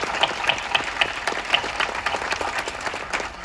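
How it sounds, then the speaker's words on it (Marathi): Theatre audience applauding loudly and steadily, dense sustained clapping from a large crowd at a stage play, continuing unbroken throughout. "जोरदार टाळ्या."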